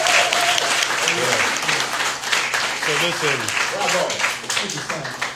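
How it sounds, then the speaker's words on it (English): Audience applause for artist Maurice James Jr. at a gallery artist talk, a sustained crowd clapping wash while someone speaks over it near the microphone. "can we give our artist, Mr. Maurice James Jr. a round of applause?"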